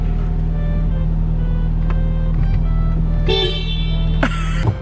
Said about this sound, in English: Taking the race car for a test spin